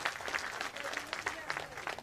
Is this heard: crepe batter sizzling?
no